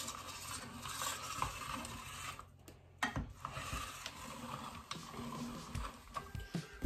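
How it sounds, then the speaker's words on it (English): A hand mixer grinds meat for boudin, a steady churning mechanical whir with rattling and grinding surges that briefly drops out near the middle before running on, close and fairly loud. "Despite using the hand mixer and all, that only took me about 5 minutes to grind that up."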